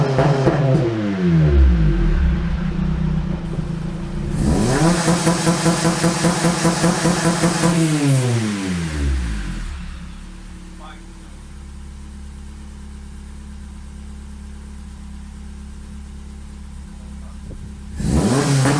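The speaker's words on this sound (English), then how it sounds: "I'm not going to rev it up no more." A car engine fitted with an ME221 launch control setup revs hard and loud in repeated bursts, climbing and falling, then drops to a steady low idle before a final rev, with no one speaking.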